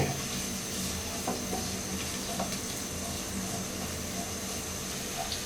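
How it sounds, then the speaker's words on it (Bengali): Chopped onions fry lightly in a pan for chole bhature, giving a steady close sizzle with a few soft stirring clicks and no talking. "এটাকে হালকা করে একটু ভাজব"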